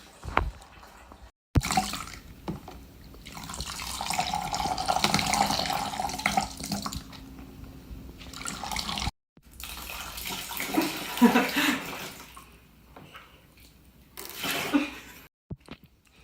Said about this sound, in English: When you have a deeper bucket, it feels really cool to get your arms in, almost up to the elbow.